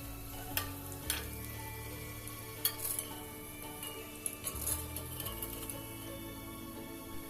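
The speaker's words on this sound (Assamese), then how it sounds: "ইলুটি-শিলুটিকৈ পিঠাকেইটা ভাজি ল'ম" Banana pitha cakes fry in oil over a medium flame, giving a quiet, steady sizzle broken by a few light ticks and clinks.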